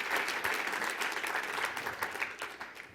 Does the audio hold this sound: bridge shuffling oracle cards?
no